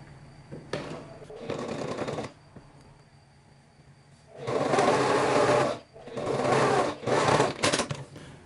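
A sewing machine stitching a two-layer lined fabric lunch bag, running in three bursts separated by pauses, loud and close with faint background hum.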